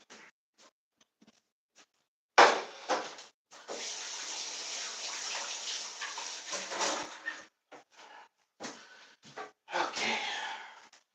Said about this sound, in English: to wash my hands.